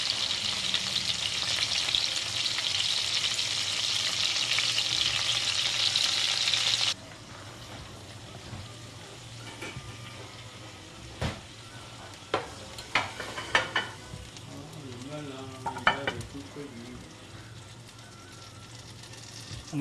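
Guinea fowl legs fry in a pan with a loud, dense sizzle that drops abruptly to a quieter crackle, with a few sharp pops and clinks of a utensil near the end.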